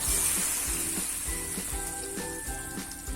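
Cashews, almonds, pistachios and charoli nuts fry in a pan for Gujarati rajwadi dudh pak, a loud continuous sizzle with regular soft knocks and clinks from stirring.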